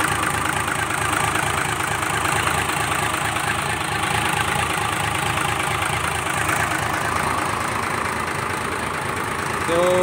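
A dump truck's diesel engine idles steadily and close, a continuous low rumble with a mid-range drone that stays even throughout, with no talk over it.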